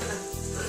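Onions, peppers and carrots sizzle in oil in a pan for seitan fajitas, a steady, close crackling hiss with no pauses over a low background hum.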